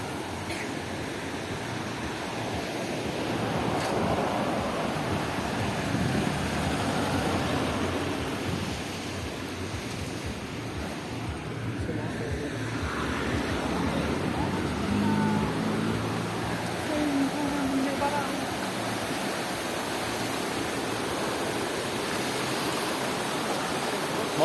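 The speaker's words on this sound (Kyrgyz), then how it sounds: "Акбура дарыясы." The Akbura river flows by a park and bridge in Osh city, a steady broadband rush of water that holds at an even, moderate level throughout with no voices over it.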